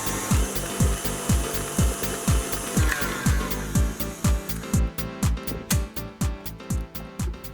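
Cake batter with eggs is beaten in a bowl by an electric mixer, with a rhythmic thumping whir pulsing about twice a second over a steady motor hum, close and moderately quiet.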